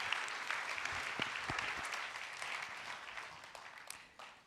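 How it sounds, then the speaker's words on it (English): An audience at the EIT Summit 2024 gives a panel a warm round of applause, steady dense clapping heard from a distance that gradually tapers off. "A big round of applause for my panel."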